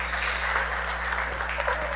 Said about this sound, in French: est-ce qu'on peut applaudir le Seigneur dans la salle?